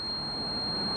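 A multimeter's continuity beep holds one high pitch without a break, clear and close, with no other sound around it, while testing a scooter CDI.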